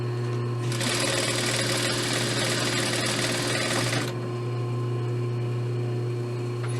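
A sewing machine runs in one steady burst of about three seconds while stitching a pillowcase, close and alone over a constant low hum, then stops.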